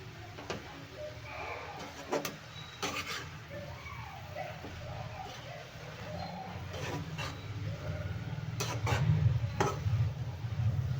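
A spatula stirring and mixing dry fenugreek leaves and green chilli in a pan, making repeated scraping and rubbing strokes over a soft sizzle, with occasional sharp taps against the pan.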